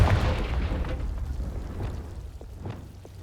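A Confringo spell explodes in Hogwarts Legacy with a loud, deep boom at the start that rumbles and fades, followed by a few softer pops and thuds.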